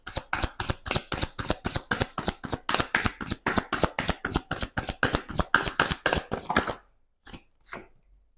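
Tarot cards riffle-shuffled close up in a quick, steady run of crisp flutters lasting several seconds, then a few brief separate snaps and slaps as the deck settles, with no voices.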